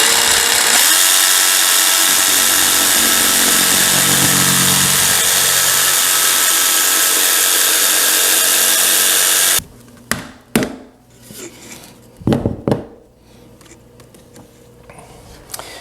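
A power tool whines continuously while trimming a wainscot panel to size, a loud steady cutting drone that stops abruptly, followed by a few sharp knocks and handling clunks.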